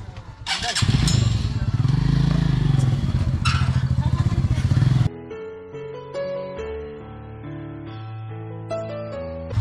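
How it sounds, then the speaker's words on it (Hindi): A motorcycle rumbles loudly up close while being ridden in and parked at a foggy hill spot, its engine chugging steadily before cutting out; afterward quieter clatter and background sounds remain. "हम बाइक खड़ी कर रहे हैं यहाँ पे"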